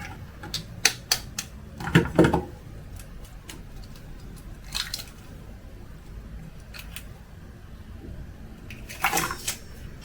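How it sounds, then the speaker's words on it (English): A salted duck egg is cracked and its yolk separated from the white, making sharp clicks and shell taps with soft wet dribbles between them, in clusters near the start and the end. "Crack the egg open and then separate the white from the egg yolk."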